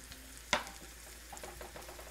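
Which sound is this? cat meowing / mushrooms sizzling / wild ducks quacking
mushrooms sizzling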